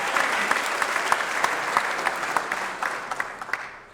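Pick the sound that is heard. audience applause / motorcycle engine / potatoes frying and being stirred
audience applause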